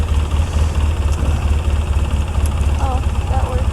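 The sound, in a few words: engine of an old carbureted Polaris ATV revving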